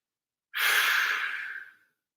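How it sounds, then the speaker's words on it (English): A single long open-mouthed exhale as a clearing breath in a hatha yoga session, close and breathy, starting abruptly and fading out after a little over a second, with silence around it. "We'll do a clearing breath and 3 ohms. Breathe in, open mouth, exhale."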